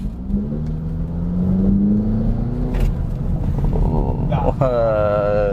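Mitsubishi Grandis GT engine pulling hard under acceleration, a rising drone that swells and holds close by, with a person speaking over it toward the end.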